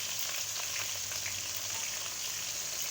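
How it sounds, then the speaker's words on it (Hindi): Onions sizzle in hot oil in a pan after the potatoes are taken out, for a dhaba-style aloo palak sabzi, a steady, close, bright crackling hiss with no talking. "आलू निकालने के बाद एक अदद हम इसमें अब प्याज ऐड कर रहे हैं।"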